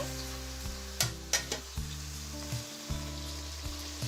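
Soft tomatoes fry in a pan for a crab curry while spice powder goes in, giving a close, steady sizzle with a few sharp clinks and scrapes of a spoon stirring, with no voices.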